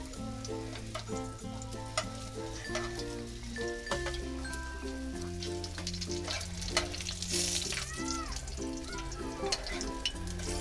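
A coriander-leaf paratha shallow-fries in a little oil with a soft, even sizzle. It sits under steady background music with sustained tones, and a few small clinks and scrapes come through.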